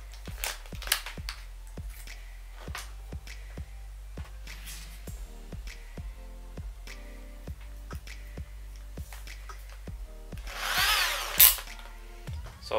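A 2 mm bit drills a hole in plastic, heard as a run of short, regularly spaced whirring bursts with clicks between them, and a louder grinding burst near the end.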